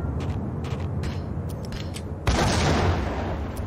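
A grenade goes off in the Max Payne video game, a sudden loud blast that cuts in over a quieter stretch of scattered clicks and thuds, then rumbles on.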